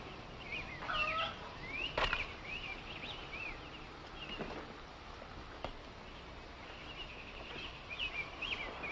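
Gamecocks fight in a pit, their clucks, squawks and gobble-like calls rising and falling over a steady murmur of crowd noise, with a few sharp scuffling bursts.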